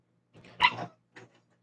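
A puppy gives a sharp bark followed by a couple of softer yips, close by in a quiet room.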